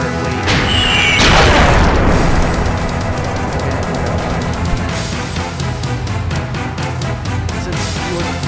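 Ship cannons boom during a naval battle in Suikoden 4, one heavy blast rolling out early, followed by a dense stretch of rumbling impacts and repeated crashing hits.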